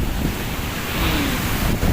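Sea waves wash onto a beach in a steady roar, with wind buffeting the microphone and no voices.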